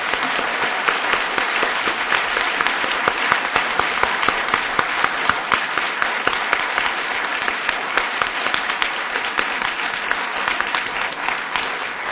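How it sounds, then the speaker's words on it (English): Audience at an MIT GPLv3 launch event breaking into sustained, dense applause that keeps going at an even level throughout, with no speech on top. "you guys didn't stop for a round of applause after you finished the presentation"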